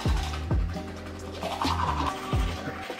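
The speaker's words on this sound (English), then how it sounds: "I'm gonna brush my teeth because you know you gotta brush your teeth before you eat." Vigorous, hard tooth brushing with a toothbrush: rapid rhythmic scrubbing strokes, close and wet, repeating in quick bursts with no voices over it.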